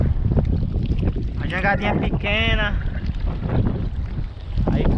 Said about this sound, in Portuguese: o vento tá despertando